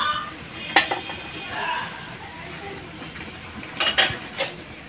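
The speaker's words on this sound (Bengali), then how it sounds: "আমি ভালো করে মিশিয়ে নেব বেসনটার সঙ্গে।" Spices such as chilli powder, white sesame, baking soda and nigella seeds being mixed into gram flour (besan) in a bowl, with scraping and occasional sharp clinks of utensil against the dish, near and moderately loud.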